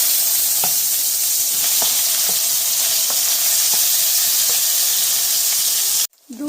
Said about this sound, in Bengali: ওই একই তেলে দিয়ে দিচ্ছি পেঁয়াজ পেস্ট আর আদা রসুনের পেস্ট